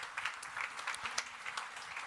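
Audience at an innovation celebration event applauds the startups ahead of their pitches, a brief patter of moderate clapping heard from a distance.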